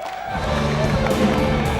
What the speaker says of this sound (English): Right now, they are all publicly cheering for him.